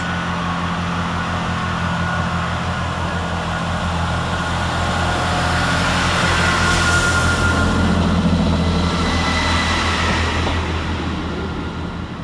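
A heavy train rumbles steadily with a deep engine drone and rising noise as it rolls into Manchester Oxford Road railway station, no voices heard.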